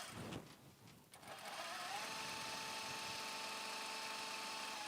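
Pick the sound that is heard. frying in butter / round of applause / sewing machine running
sewing machine running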